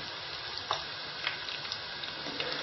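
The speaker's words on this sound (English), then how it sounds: "Just before I turn them over, I'm just going to spoon on some of that hot oil." Hot oil spooned over meat frying in a pan, a steady dense sizzle throughout with a few brief spoon clinks and spatters rising above it, close and fairly loud, no talking.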